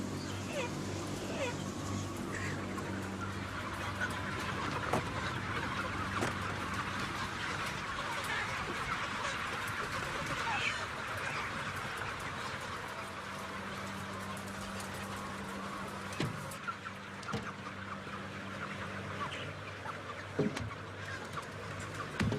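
Heavy broiler chickens clucking and murmuring in a crowded poultry house, a continuous low flock chatter with occasional louder clucks, under steady background noise and some faint talk.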